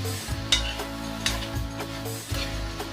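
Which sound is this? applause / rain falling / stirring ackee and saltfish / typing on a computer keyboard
stirring ackee and saltfish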